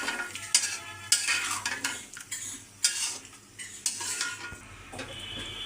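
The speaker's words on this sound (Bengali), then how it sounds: "ভালো করে আগে কষিয়ে নেব সবজিগুলো।" Drumstick pieces, potato and eggplant being sautéed in a pan for a village-style fish curry, with clinking utensil scrapes and stirring over a soft oily sizzle, fairly close and steady, no voices.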